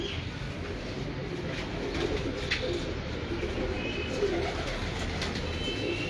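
Pigeons in a loft coo softly over a steady, noisy background, the low murmuring calls repeating close by.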